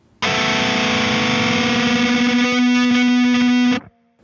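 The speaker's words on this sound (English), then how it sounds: "play two notes on two different strings and then bend just the lower note up to the first note" A unison bend on the Shreddage 2 virtual electric guitar: two distorted notes ring loud together as the lower one bends up to meet the higher, sustaining about three and a half seconds before cutting off abruptly.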